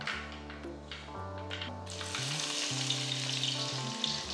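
Mustard seeds and dried red chillies fry in hot coconut oil for a Kerala mackerel curry, a steady close sizzle with faint crackles and pops rising louder partway through, under a sustained background tone.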